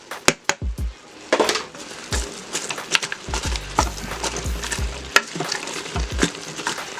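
Browned beef, garlic and onions being stirred in a pressure cooker, with steady sizzling and frying under repeated scraping and clattering strokes of a utensil against the pot, close and fairly loud.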